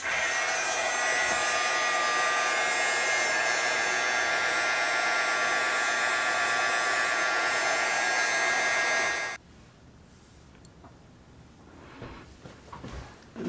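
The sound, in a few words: hair dryer drying gesso paint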